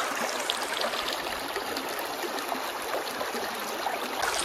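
A mountain river rushing beside a rough, stony road, heard as a steady, dense wash of flowing water that stays even and close throughout, with no voices.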